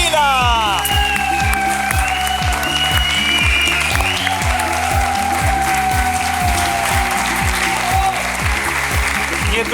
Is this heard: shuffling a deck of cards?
no